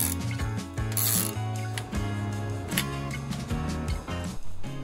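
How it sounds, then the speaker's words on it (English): Heavy-duty Jubilee hose clip being tightened on a van diesel heater pipe, close repeated ratcheting clicks and metallic mechanical turning in uneven bursts, no talking. "I've just tightened it all up, and it's a lot better than the other Jubilee clip because it actually tightens for a start."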